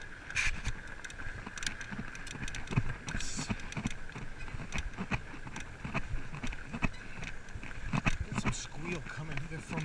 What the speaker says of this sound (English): all that creaking is the seat